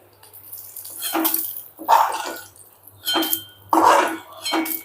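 A spoon scrapes and clinks against a pan as roasted urad dal is scooped into a bowl in a home kitchen. There are several short bursts of metallic scraping close to the mic, separated by brief quiet gaps.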